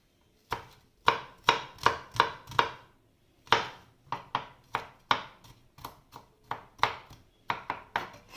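A knife chops garlic on a cutting board in quick, crisp knocks, about twenty close strikes coming in short bursts with brief pauses, with no talking.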